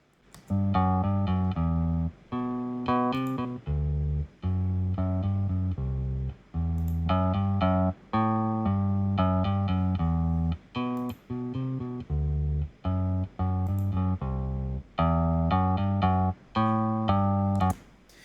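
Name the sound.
bass overdrive switched off and on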